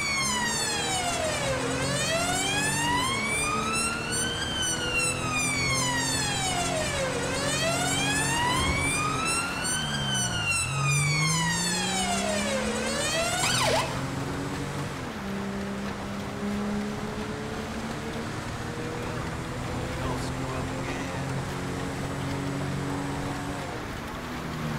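An emergency vehicle siren in GTA 5 wails in loud repeated rising and falling sweeps, then switches to a lower steady tone under a rumbling engine, with no talk.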